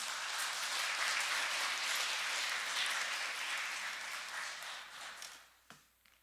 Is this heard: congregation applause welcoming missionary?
yes